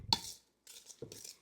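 Thick lemon poppy seed muffin batter is worked with a Danish dough whisk in a bowl, giving three soft scraping, clinking strokes, quiet and close with no talking.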